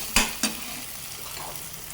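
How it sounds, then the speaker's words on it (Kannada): Capsicum frying in a pan gives a steady, soft sizzle, with two sharp utensil clanks early on from stirring. "ಈಗ ನಾನು ಕಾಯೆಲ್ಲ ಹಾಕಿದ್ಮೇಲೆ ಹಾಗೆ ಕ್ಯಾಪ್ಸಿಕಮ್ಮು 2 ನಿಮಿಷ ನಾನು ಫ್ರೈ ಮಾಡ್ಕೊಂಡಿದ್ದೀನಿ"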